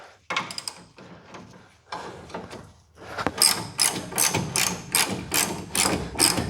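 Bolts on the back bumper of a car under restoration being backed off with a ratchet, giving a close, steady run of rhythmic mechanical clicks and whirring that grows busier and louder toward the end, with no voices.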